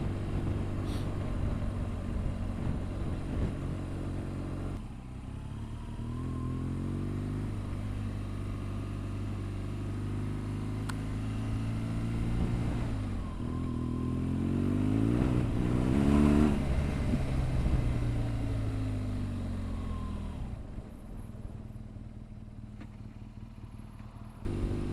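A tractor engine runs steadily throughout, a low droning rumble with rising and falling revs around the middle, close and loud with no talk over it.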